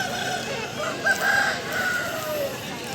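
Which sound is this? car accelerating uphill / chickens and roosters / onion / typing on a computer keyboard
chickens and roosters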